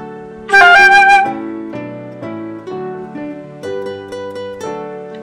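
A melodic line played alone on a keyboard-like instrument, with a quick lower mordent flicking once between a note and the note just below, followed by several sustained notes.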